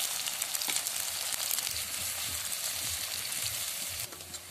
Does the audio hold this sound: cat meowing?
no